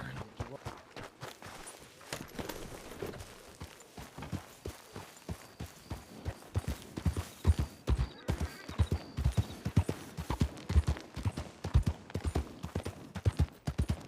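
Horses in a video game clatter past with rapid clip-clop hoofbeats that grow louder and denser partway through, sounding near and busy, with a brief whinny mixed in.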